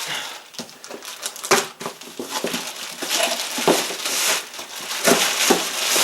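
Scissors chop and crunch through cardboard in uneven bursts, each cut a sharp crinkly snap over rustling handling noise, close and moderately loud.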